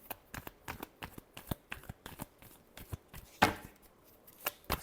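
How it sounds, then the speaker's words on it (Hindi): Tarot cards shuffled by hand in a quick series of crisp riffling slaps and flutters, close and fairly quiet, with no voice over them. "Last shuffle."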